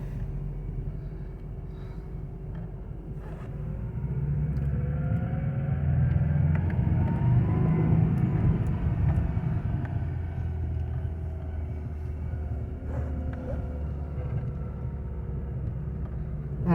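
A 1989 Subaru GL four-wheel-drive wagon's engine rumbles low and steady in low range, rising slightly in the middle as the car creeps along slowly, with no voices.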